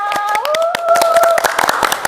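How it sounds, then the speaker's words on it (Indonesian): Quick bursts of hand clapping from a small audience at a podcast session, sharp claps ringing out over a sustained tonal hum with some background voices. "Tepuk tangan semuanya."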